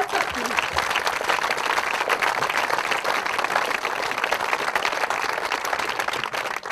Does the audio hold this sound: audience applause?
yes